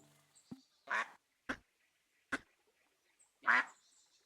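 A plastic duck in the Tiny Glade video game gives several short quacks, two longer honking ones and a few quick blips, spaced apart with silence between.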